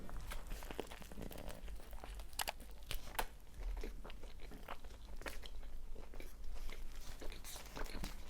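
A chicken shish wrap with crunchy bits is bitten and chewed close to the microphone, giving steady crunching and wet mastication with crinkling wrapper sounds and no talk.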